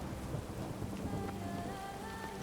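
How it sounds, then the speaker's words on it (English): Steady rain falls in Toussaint, the sunny wine region of The Witcher 3: Blood and Wine, a dense even hiss of drops with a low rumble beneath, alone and without voices throughout the short stretch. "Even rain in Toussaint is nice."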